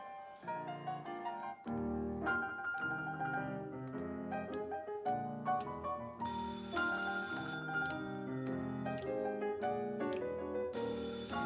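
A telephone rings repeatedly in a stage rehearsal for a show-business musical, a bright electric bell pattern with strong tonal harmonics, loud and steady across the whole stretch with no talk.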